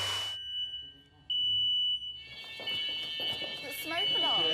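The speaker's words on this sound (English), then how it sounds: "Yep, insecticidal spray can set off your smoke alarms." A smoke alarm in a large rural French chateau, set off by insecticidal spray, sounds a shrill piercing beep that cuts in and holds, while people talk over it.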